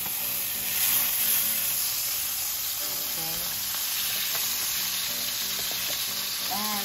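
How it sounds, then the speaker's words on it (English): Butter sizzling in a frying pan previously used for salmon, a steady close frying hiss with faint crackles and occasional clinks throughout. "So I'm using the same frying pan. So now I need to add the butter."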